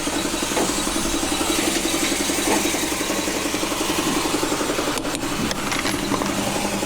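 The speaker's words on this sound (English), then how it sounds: "I should have did this before I done crunk the air compressor." An air compressor runs beside a semi truck with a blown tire, giving a loud, steady mechanical drone with a faint pulsing rhythm that carries on without a break.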